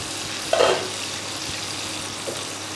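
A steady, soft sizzling hiss of pointed gourd slices frying on a hot tawa griddle, with a brief louder crackle early on.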